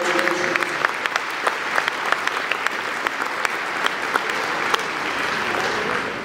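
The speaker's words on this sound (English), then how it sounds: "And even if you aren't here, we're going to clap for you." A large graduation audience claps for the graduating students, a steady dense wash of applause that holds strongly and evenly for about six seconds, with individual sharp claps popping out of the crowd.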